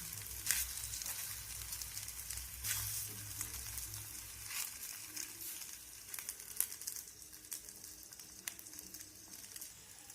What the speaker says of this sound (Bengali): অপর পাশটাতেও আমি একটু চেপে চেপে এইভাবে ভেজে নেব।